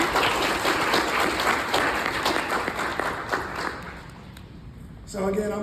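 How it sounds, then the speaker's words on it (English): Graduation audience applauding loudly with dense, sustained clapping that fades over a few seconds before a voice returns. "Give yourselves a round of applause."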